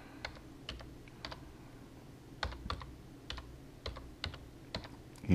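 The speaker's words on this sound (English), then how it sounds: "So I could type in microphone." Typing on a computer keyboard, entering a word into speech-recognition software: clear, close keystrokes in short irregular bursts with brief pauses, no voices.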